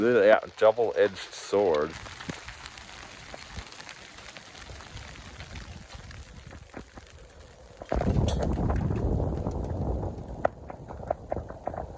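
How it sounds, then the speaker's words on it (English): Rain with massive drops patters steadily on a van at moderate volume during a northern Arizona hailstorm, growing heavier and denser toward the end, after a brief musical jingle at the start. "It's raining, all right. I'm absolutely loving this, guys. It's huge rain. The drops are massive."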